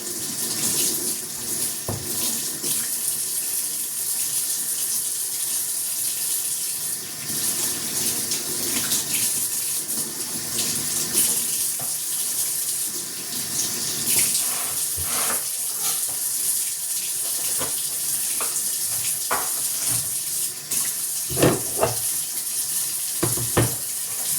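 A sink tap runs steadily while dishes are washed in a UK kitchen, a continuous close hiss of water with occasional clinks and splashes.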